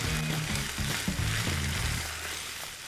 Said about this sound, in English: I want to simmer that tomato sauce down